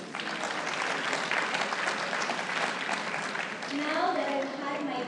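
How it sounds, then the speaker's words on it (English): Sustained applause from an audience at a lecture on investments, a steady even patter of many hands at moderate level, with a voice rising over it near the end. "Another round of applause"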